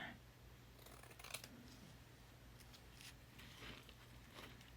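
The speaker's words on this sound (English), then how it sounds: "I usually don't cut napkins, but I don't want to try to tear these." Scissors cut through thin paper napkins in a few quiet, crisp snips, with soft paper rustling between the cuts over a faint low hum.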